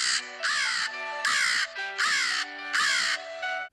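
A person imitating a mother crow calls out about five harsh caws in a steady, close rhythm, each one drawn out and rough.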